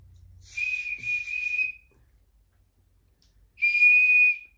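Small toy whistle from an Easter egg, blown in two short shrill bursts, a brief pause, then one longer steady shriek, close and loud in a quiet room.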